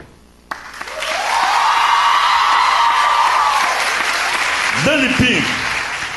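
A talent show audience breaks into loud, sustained applause with cheering and whoops, a dense crowd roar after a short spoken name, while a voice calls out near the end.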